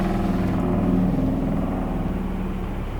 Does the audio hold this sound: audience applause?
no